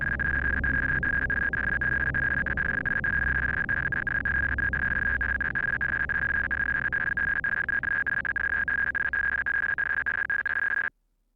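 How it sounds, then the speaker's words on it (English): Rapid, continuous high-pitched electronic beeping like sped-up Morse code, a steady tone pulsing fast for about eleven seconds over a low rumbling background, loud and alone, then cutting off abruptly. "Is that like a sped up Morse code or something?"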